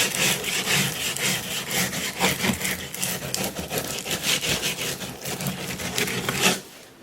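Coarse 36 grit sandpaper scrapes over a plaster sculpture in fast back-and-forth strokes, a close, continuous gritty rasp that stops abruptly at the end.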